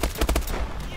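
Quick burst gunfire in Call of Duty: Advanced Warfare gameplay, a short run of rapid loud shots packed into about a second.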